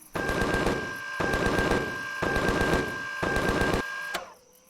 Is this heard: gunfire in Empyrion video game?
yes